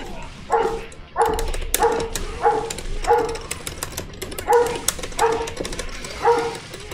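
A dog barks repeatedly at night, roughly a dozen evenly spaced barks at a steady rhythm, moderately loud and somewhat distant, over a constant noisy background hum.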